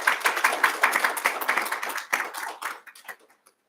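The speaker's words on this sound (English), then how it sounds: "a big round of applause for them" Audience applause at a city council candidate forum, a dense patter of clapping that stays steady for about two seconds, then thins into scattered claps and dies out.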